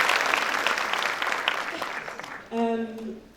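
Audience applause in a lecture hall during a talk, a dense patter of clapping that fades over a few seconds before a voice cuts in.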